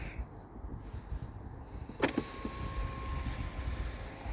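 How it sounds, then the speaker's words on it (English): A BMW E60/E61 sunroof motor runs as the roof closes, a steady electric whir that starts abruptly partway through and continues, close by, over a faint background hum. "when you're trying to close your sunroof"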